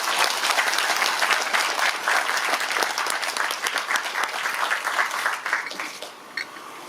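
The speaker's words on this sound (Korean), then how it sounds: "여러분들 박수 한번 쳐드리겠습니다" An audience at a 2019 Pocheon city population-policy forum gives a loud, sustained round of applause during the keynote, the dense clapping thinning and tapering off with a few last claps near the end.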